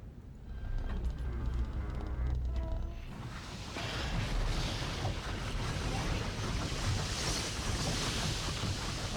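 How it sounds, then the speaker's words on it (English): Water rushes back into a drained basin in the game Riven, a broad steady roar of flowing water that swells after a few seconds and carries on loud and continuous. "Oh, and that brings the water back in."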